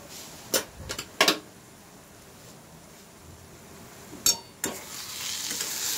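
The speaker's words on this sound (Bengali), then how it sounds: "বারবার নেড়ে নেড়ে দিতে হবে যাতে জলটা শুকিয়ে যায়" Taro greens cooking in a pan on medium flame, a steady hiss of sizzling with several scraping, clattering stirs from a spatula, close up and with no talking.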